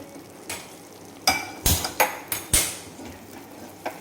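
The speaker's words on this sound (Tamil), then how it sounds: "பேன் கொஞ்சம் தனியா, சீரகம், காஞ்ச மிளகாய் இது எல்லாத்தையும் ஒன்றா கொட்டி வறுத்துக்கோங்க." Coriander seeds, cumin and dried red chillies dry roasting in a pan, heard as a string of sharp metallic scrapes and clatters from a spoon against the pan, irregular and close, with quiet gaps between.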